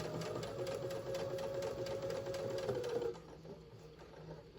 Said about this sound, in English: I'm going to go ahead and just sew straight to get the center one on